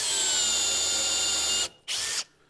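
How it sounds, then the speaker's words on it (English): A power drill fitted with a countersink counterbore bit, boring into wood for a number 8 screw. It gives a steady high whine for about a second and a half, cuts off, then makes a brief second burst. "I'm using a countersink counterbore bit."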